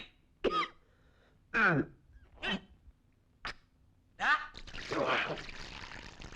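A hungover man in a Malayalam film scene coughs in a series of about five sharp, harsh bursts separated by pauses, followed by a rougher, noisier stretch near the end.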